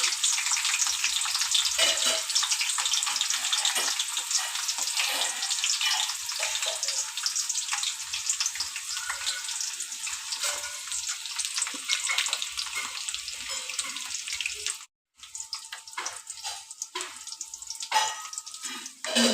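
Stuffed bitter gourd with garlic fries in hot oil, giving a steady, loud, dense sizzle throughout with a brief drop near the end.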